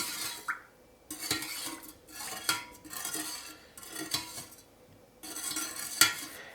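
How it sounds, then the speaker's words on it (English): A metal spoon stirs a cooling herbal ointment of oils and beeswax in a pot, making repeated scraping and clinking strokes in bursts with brief pauses between them, close and moderately loud. "And again, I'm going to stir that in."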